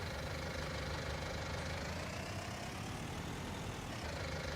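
A small tractor engine in Farming Simulator 19 runs with a dense, continuous mechanical drone, steady and fairly loud throughout.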